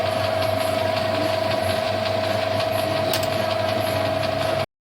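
A metal lathe bores a part for a valve core. The machine gives a steady mechanical whir with a constant tone and faint rhythmic ticking, continuous and fairly close, then cuts off suddenly.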